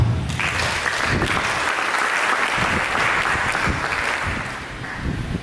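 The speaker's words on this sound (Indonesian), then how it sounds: "Mari kita tepuk tangan." A congregation at a church service applauds together, a loud, dense and sustained wash of clapping that fills the space evenly and eases slightly near the end.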